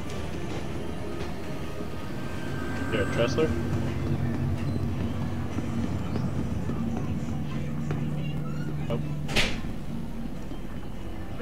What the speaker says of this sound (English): Oh, I think this train's working.